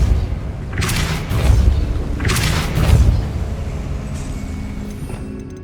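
The Depulsor spell fires in Hogwarts Legacy on PS5 as two deep, booming magical blasts about a second apart. Each is loud and broad, and a low rumble lingers after it with no speech.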